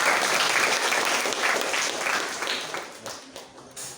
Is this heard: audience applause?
yes